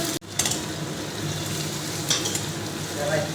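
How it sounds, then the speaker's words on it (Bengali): Onions fry in hot oil for birista, a dense, continuous close sizzle with a sharp clatter at the start and occasional utensil clinks. "এবারে বেরেস্তা করার জন্য আমি পেঁয়াজগুলো ভেজে নেব"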